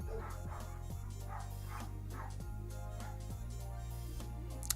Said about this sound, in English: forgive me for the dogs barking